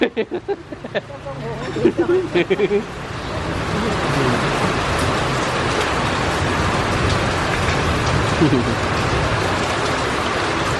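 Rain falls at night on a countryside hut in southern Vietnam, settling into a steady broadband hiss after a few seconds of voices and close knocks, and continuing under speech to the end.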